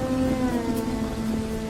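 Rain falls in a steady, dense patter that continues evenly for the whole moment, fairly loud and close, with a low sustained tone running beneath it and no one speaking.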